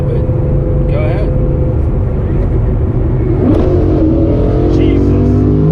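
An 830+ horsepower Ford Mustang pulls hard in third gear, its engine note climbing and swelling loud and close from inside the car, with voices talking over the steady roar.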